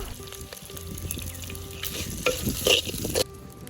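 Curry leaves crackle and sizzle in hot oil alongside shallots while being stirred, a steady close frying hiss with a few sharper pops and scrapes toward the end.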